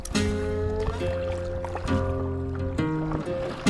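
Kayak paddling on Lake Powell toward Antelope Canyon, with close water splashes and paddle strokes mixed with strong tonal hum and bumps near the boat, no clear talk.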